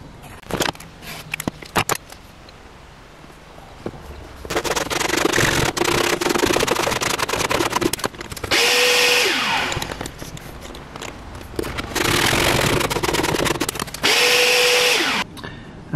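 A power tool cutting nut slots into a wooden guitar fingerboard runs in several loud bursts of whining, grinding motor noise, separated by short quiet gaps and scattered handling clicks.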